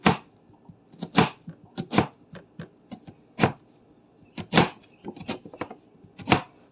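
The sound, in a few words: chopping an onion into a small mince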